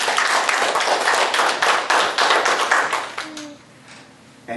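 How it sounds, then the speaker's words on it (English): Audience applause at a frontier days festival event in Edgerton, a dense burst of many hands clapping loudly that thins out and fades near the end. "Give them a big round of applause."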